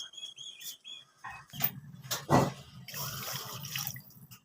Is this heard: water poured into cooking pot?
yes